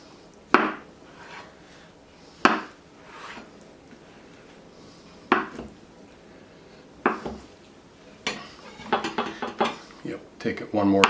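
A knife chops pressed tofu into 1-inch pieces on a board, a few spaced sharp cuts and then a quicker run of knocks, with someone talking between them.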